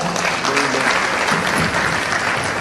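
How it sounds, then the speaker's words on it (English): A conference audience at a financial inclusion session claps in dense, continuous applause that fills the room and holds steady throughout. "Let's give Suran a round of applause."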